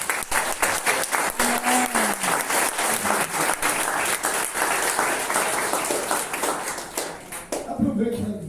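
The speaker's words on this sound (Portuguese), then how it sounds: "Você pode aplaudir." A church congregation applauds after a closing prayer, steady dense clapping filling the room for several seconds before tapering off, with a voice speaking briefly at the end.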